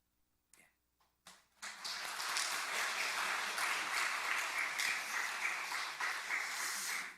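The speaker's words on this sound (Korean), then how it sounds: "잠깐 일어나면 격려하는 박수 잠깐 하도록 하겠습니다" A church congregation in Bucheon applauds in encouragement during a funeral service, starting with a few scattered claps before swelling into sustained, steady applause from many people that fades out at the end.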